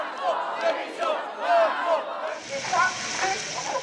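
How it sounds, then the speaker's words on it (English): A protesting crowd of striking French workers roars and chants with megaphone-amplified shouting, the voices rising and falling in waves from a moderate distance, then giving way to a broader, hissing crowd din. "Megaphones echoed through the crowds."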